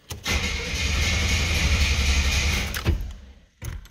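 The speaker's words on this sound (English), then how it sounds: "All right, I'm gonna crank it a couple of times." A 1983 Buick Regal engine cranks over on its starter after a fuel pump replacement, making a loud, close, sustained churning for a few seconds. A brief pause follows, and then a second crank begins.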